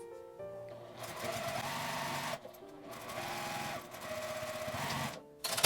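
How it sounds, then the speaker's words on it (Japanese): Sewing machine stitching down the folded bottom edge of a fabric glasses case, a close, fast mechanical whirring run with two brief pauses between bursts of stitching. "底の折ったところは折ったままで下まで縫います。"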